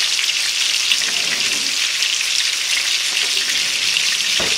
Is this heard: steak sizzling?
yes